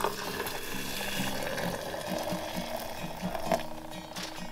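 Hot water trickles and splashes into a French press coffee maker in an off-grid setting, a steady, gurgling pour heard close up with faint clinks along the way.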